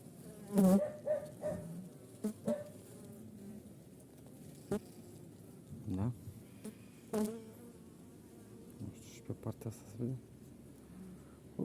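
Honeybees buzz steadily around an opened beehive frame during a hive inspection, a close continuous drone, with someone speaking over it and handling noises now and then.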